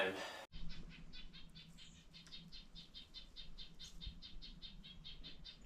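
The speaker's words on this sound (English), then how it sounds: "Hear that bird?" A small bird gives a rapid series of repeated chirps in a steady rhythm, fairly close and clear against quiet woodland background on the Appalachian Trail.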